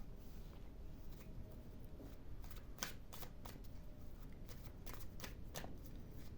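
Tarot cards shuffled continuously at close range while drawing clarifier cards: a steady, dense papery riffle with scattered sharper snaps and flicks, no voices.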